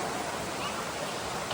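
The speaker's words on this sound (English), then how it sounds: "this is the waterfall right here." Twin Falls on Maui roars with a dense, constant broadband rush of falling water that stays even and steady across the whole moment, with no break in the wash.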